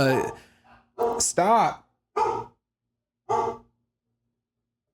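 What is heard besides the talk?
dogs barking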